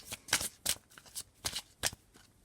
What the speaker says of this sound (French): Je vais tirer 2 cartes.